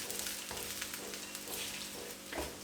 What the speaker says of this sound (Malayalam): അപ്പോൾ ഇതിൻ്റെ കൂടെ ഞാൻ നമ്മുടെ നിലക്കടല ആഡ് ചെയ്ത് കൊടുക്കുകയാണ്. എന്നിട്ട് ജസ്റ്റ് ഒന്ന് മിക്സ് ചെയ്യാം.